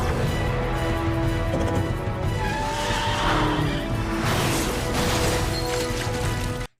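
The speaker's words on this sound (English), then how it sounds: "they just drive the car into him" A cartoon car from the animated series Regular Show drives hard and skids, its engine roar and squealing tires filling the scene loudly and continuously before cutting off abruptly.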